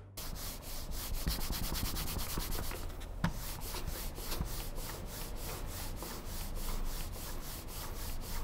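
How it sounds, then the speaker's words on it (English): An MSI Clutch GM11 gaming mouse slides back and forth on a basic cloth mouse pad, making a soft, rhythmic scraping rub in repeated strokes, close and alone. "This is how moving the mouse on a basic cloth mouse pad sounds like."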